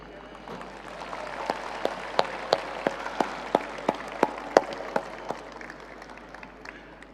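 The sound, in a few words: audience giving a warm round of applause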